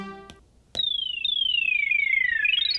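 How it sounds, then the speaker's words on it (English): A synthesizer patch from the NanoStudio 2 app plays a bright, pure tone that sweeps slowly downward in pitch with a rising flourish at the end, after a short harmonic note and a click. "you can just hit the synth, and then you can go through your synth here, and then you can play some different things"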